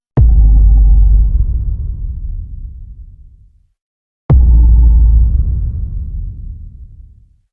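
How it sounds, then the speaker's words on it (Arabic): A huge cinematic explosion strikes twice, each a sharp, loud boom that swells into a deep rumble and fades slowly into silence. "رقم واحد: الانفجار السينمائي الضخم."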